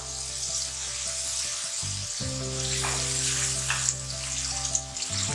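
Tomatoes sizzling in a frying pan for aloo tahiri, a soft steady crackling hiss under a constant low tonal hum, with a few louder pops toward the end and no speech.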